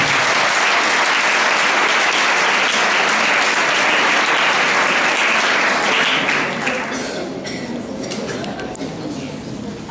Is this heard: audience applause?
yes